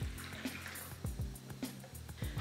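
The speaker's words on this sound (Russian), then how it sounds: "наливаем кипяток" Boiling water pours into a bowl for dumpling dough, a close, steady trickle and splash with repeated gurgling surges.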